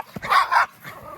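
A single short, sharp bark from a small female dog close by, followed by a quieter second yelp.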